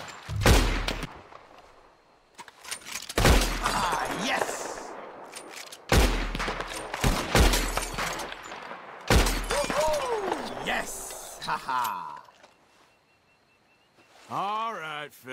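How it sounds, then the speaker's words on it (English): Gunshots in Red Dead Redemption 2 as a bottle is shot, with several loud sharp bangs and a glassy break among them, spaced irregularly, while in-game characters talk between and over the shots. "All right, feller, you shot a bottle."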